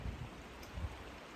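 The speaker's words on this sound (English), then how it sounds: "we're now getting showered on with some rain and mist" Light rain and mist fall on a mountain hiking trail near Mount Colden, above Marcy Dam in the Adirondacks, as a faint, steady patter and hiss with no voices.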